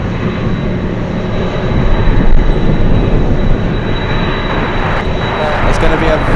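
Heavy broadband roar of a Cathay Boeing 747 cargo jet departing Anchorage on runway 15 in gusty wind, steady and loud throughout with a thin high whine on top and a faint voice underneath.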